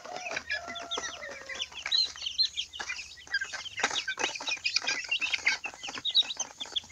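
Chicks peep and cheep busily around a homemade automatic feeder made from recycled containers, a dense, close chorus of high chirps with a faint low hum underneath and no talking.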